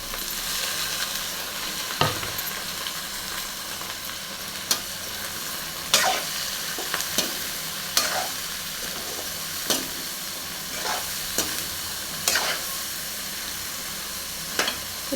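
Chopped ridge gourd sautéing in a pan for a chutney, a continuous hiss of frying broken by regular sharp scrapes of a spatula against the pan every second or two.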